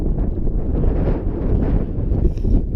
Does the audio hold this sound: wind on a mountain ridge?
yes